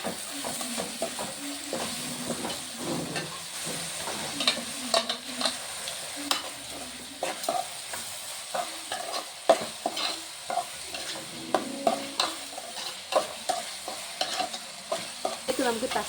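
Onions frying with salt in a pan for a crab curry, a soft continuous sizzle broken by repeated scraping and clattering strokes of a spoon stirring them.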